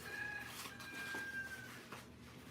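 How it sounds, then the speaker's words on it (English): A faint rooster crows once in the distance over a low, steady background hum. "Right now, I hear you, rooster."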